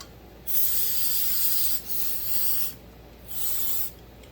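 Two long bursts of aerosol cleaner spray hiss onto a Pro Mac chainsaw carburetor, each lasting over a second, with a short pause between them; close and fairly loud, no talking.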